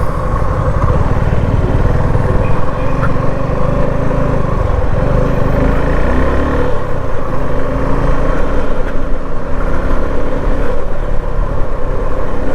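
Suzuki V-Strom 250 SX 250cc motorcycle engine pulling hard on a 2024 test ride, a loud, steady drone with constant wind rush and no pauses throughout.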